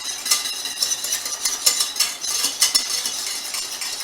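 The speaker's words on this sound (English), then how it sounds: "I'm going to change to a whisk to continue this" A wire whisk beats a sauce in a pan, producing a rapid, bright scraping and clinking that pulses steadily and sits close and fairly loud, with no talking.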